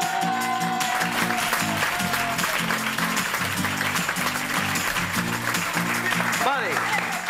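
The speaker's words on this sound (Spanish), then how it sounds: "¡Aplauso para ellos!" Audience clapping on a Spanish comedy show, continuous applause mixed with music and talk over it.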